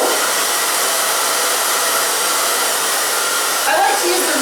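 Handheld hair dryer blowing on hair during bang styling, a loud, steady whooshing roar held at one level throughout, close by, with a slight shift near the end as the airflow moves.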